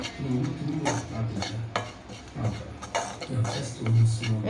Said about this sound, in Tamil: கைவிடாமல் நல்லா வதக்கி விடுங்க